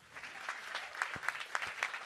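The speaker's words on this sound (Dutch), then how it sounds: "Anneke Langeberg, applaus." An audience applauds at a live Dutch poetry evening, a moderate patter of clapping hands spread evenly through the room, steady and fairly close with no voices on top.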